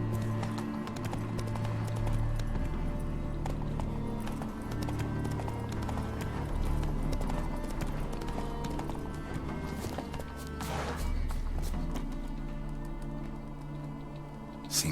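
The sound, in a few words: horse galloping hooves in video game The Witcher 3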